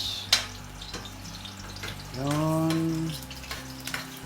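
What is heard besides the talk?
onions sautéing in hot cooking oil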